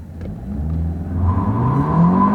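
A car launches hard in sport mode on a small drag strip, its engine note climbing steadily into a loud rising whine and rumble over two seconds, with tires burning as it accelerates away.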